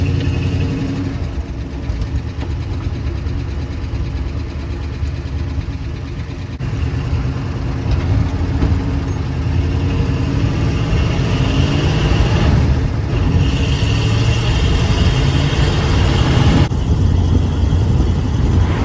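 A car engine with a suspected bad lifter runs continuously on a test drive, giving a loud, close, steady drone with slight shifts in load and no voices.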